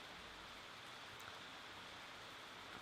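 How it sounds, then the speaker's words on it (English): Steady rain falls outdoors as a soft, even hiss of drops that never lets up. It stays faint and continuous, with no voices. "Now you can hear, I assume, the rain coming down."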